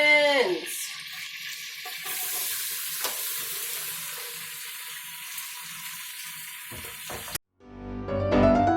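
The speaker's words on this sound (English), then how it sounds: "now I'm going to add in my onions." Onions hit a hot pan and sizzle steadily and loudly, with stirring scrapes along the way, before the sound cuts off abruptly and other kitchen noise starts up.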